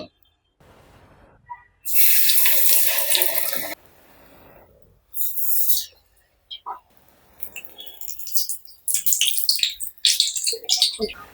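Eggplant fritters (beguni) fry in hot oil, giving off bursts of loud sizzling hiss that come and go in uneven spurts with quieter gaps between.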